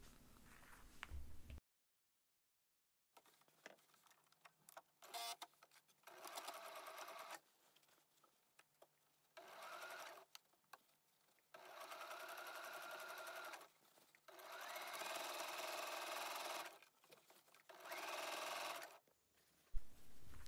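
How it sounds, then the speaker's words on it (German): A sewing machine topstitches close to the upper edge of a bag and stitches the straps down, running in several close, loud bursts separated by short pauses, with no talk. "Und dann wird die obere Kante auch knappkantig abgesteppt und dabei werden die Gurtbänder oben festgenäht."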